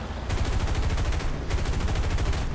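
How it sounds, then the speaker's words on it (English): Continuous, loud, rapid machine gun fire in the War Thunder aircraft game hammers on without a break, with only a short dip in the middle. "Are they shooting at us, or is that us shooting them?"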